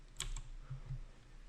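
Faint, quick clicks come from a computer keyboard as a short line of Korean text is typed in Photoshop, with a couple of light keystrokes over a quiet room hum.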